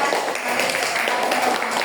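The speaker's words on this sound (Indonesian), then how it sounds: "Tepuk tangan untuk kelompok 4" Classroom of fifth-grade pupils clapping for group 4, a steady dense patter of many hands sustained throughout at moderate loudness, with some voices mixed in.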